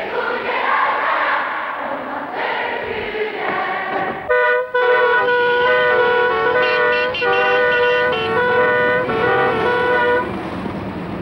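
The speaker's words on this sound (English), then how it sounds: "The traffic is just as heavy as London. Lots of horns going, screeching of brakes." Heavy 1971 Istanbul city traffic roars on, loud and close, with sustained overlapping car horns blaring over a steady rumble of engines.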